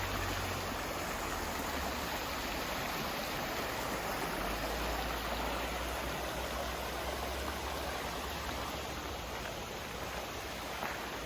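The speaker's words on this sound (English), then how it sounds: "Look at the river right behind my site" A creek runs right behind a campsite at Parksville Lake, giving a steady, even wash of flowing water, soft and constant with no voices.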